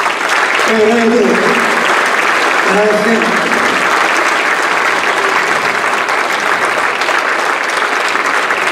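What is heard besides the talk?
audience applauding at a band concert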